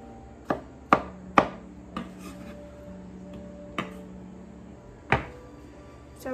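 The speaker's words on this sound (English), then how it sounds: "It's just slice... and then take the long way and just cut them into" A knife dicing tomatoes on a cutting board, a series of sharp separate chops, a quick cluster of three and then scattered single cuts, close and crisp in a quiet kitchen.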